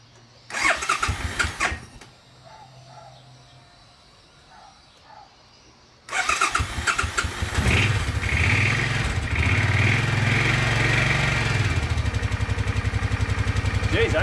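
A motorcycle-type engine cranks and fires after a quiet stretch, then catches and is revved hard with throttle, holding a loud, steady roar up close to the end.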